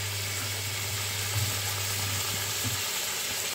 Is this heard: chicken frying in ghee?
yes